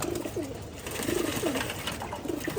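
Pet pigeons coo repeatedly while being given a bath. The soft, rolling coos come close by over a steady wash of background noise.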